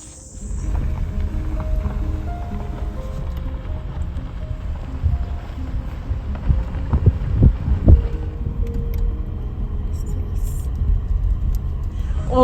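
A car drives between venues on a voting day morning, its steady low engine and road rumble running throughout, with faint muffled voices beneath.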